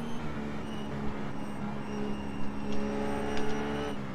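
A GT3 race car's engine drones in iRacing at Silverstone. Several cars sound at once in a steady, mid-distance whine with shifting pitch and brief sharper bursts, and no voices.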